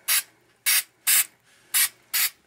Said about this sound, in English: I'm going to try the adhesive spray.